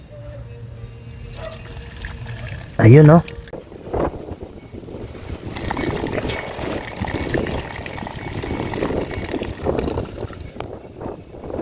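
Distilled water draining from the coolant system of a Yamaha NMAX V1 scooter, a thin continuous trickle with some wind buffeting on the microphone and a brief loud bump near the start, while someone speaks briefly.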